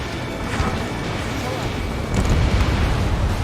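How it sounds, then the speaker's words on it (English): Bombs explode on a ground target in the Ace Combat 7 combat flight game, a deep rumbling blast that swells partway through over constant jet and battle noise, with radio voices talking. "Spare 15 bombs away. Trigger has destroyed the target."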